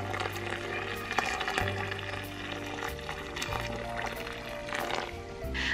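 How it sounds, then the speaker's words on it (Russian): Boiling water poured carefully from a kettle into a pot around glass jars of Korean-style eggplant salad, a steady close trickle and splash lasting several seconds with faint kitchen clatter. "И аккуратно заливаю кипятком."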